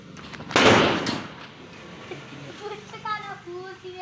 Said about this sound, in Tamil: தம்பி இப்போ லக்ஷ்மி பட்டாசு வெடிக்க போகிறா கைஸ்